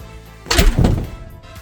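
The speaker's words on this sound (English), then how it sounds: "I don't know if the camera's going to pick up that solid thump" A solid, dull thump struck on the sound-deadened back half of a Ford F-150 during a mild restoration, one heavy close impact followed by a short decaying rumble.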